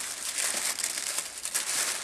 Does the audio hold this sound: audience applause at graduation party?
no